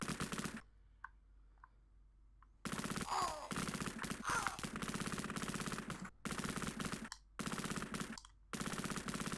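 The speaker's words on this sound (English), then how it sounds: "It must be these people in here shooting at me." Machine gun fire from the retro Sega Mega Drive game Cannon Fodder crackles in long rapid bursts, loud and close, broken by short silent gaps and a quiet stretch near the start.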